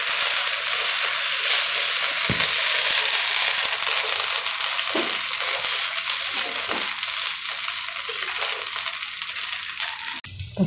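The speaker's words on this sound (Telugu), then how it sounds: "మనం ఇందాక కలిపి పెట్టిన పిండి ఉంది కదా, అది పోసుకున్నాము" Dosa batter hitting a hot pan gives a steady, loud broadband sizzle and crackle that keeps going without a break, with a few faint clicks of a utensil and no talk.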